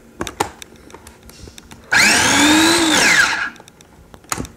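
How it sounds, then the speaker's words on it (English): A kitchen blender blitzes thick red pepper pesto in one loud, steady whirring burst of about a second and a half, with quieter kitchen knocks before and after. "then we just blend this up"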